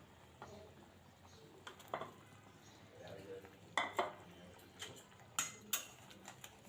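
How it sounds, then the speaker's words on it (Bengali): Pointed gourd pieces tipped into a pot of boiling water for a semi-dry Bengali dish, giving a string of sharp clatters and knocks against the pot over a soft simmering hiss. The clatters come in close bursts, loudest near the middle and end. "এখন পটলগুলো দিয়ে দেব।"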